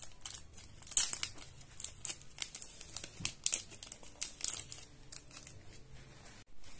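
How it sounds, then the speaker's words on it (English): Plastic wrapping on a BTS 2022 season greetings package crinkles and tears in close, quick bursts, irregular rustles running for several seconds with no talking. "Let's open it."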